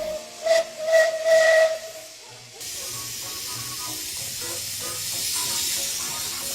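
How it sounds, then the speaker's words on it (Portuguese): A wood-fired steam traction engine gives off loud, hissing bursts of steam, first two or three strong blasts with a whistling tone, then a long, steady hiss that carries on to the end. "E quando a água é aquecida, se torna em vapor."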